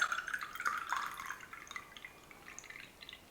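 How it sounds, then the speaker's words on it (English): Thai Red Bull Krating Daeng, thick and syrupy, pours into a glass as a faint, close trickle with irregular small drips that thin out toward the end. "So let's pour this into a glass and you'll see the difference."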